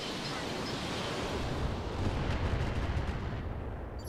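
Mech weapons in the game Roguetech fire as a dense, rumbling barrage that swells midway, a continuous wash of booms and blasts with no talk over it.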